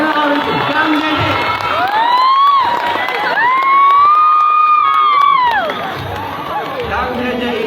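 A crowd at a school flag-raising ceremony for Indonesia's independence anniversary cheers loudly, with high, sustained whoops and shouts rising over the general roar and only faint clapping.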